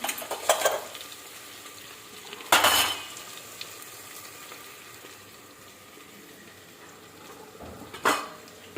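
Onion and garlic cooking in a pan, with a soft background sizzle broken by three sharp bursts of utensil scraping and clinking against the pan, and no talking.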